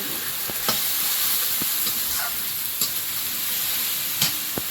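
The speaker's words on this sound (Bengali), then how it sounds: "একটু জল দিয়ে মশলাটা কষিয়ে রেখেছি" Spice paste with cumin, coriander, salt and a little water sizzles steadily in a pan, with occasional stirring scrapes and clicks breaking through the soft, continuous frying hiss.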